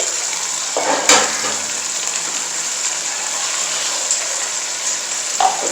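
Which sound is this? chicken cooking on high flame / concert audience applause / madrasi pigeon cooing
chicken cooking on high flame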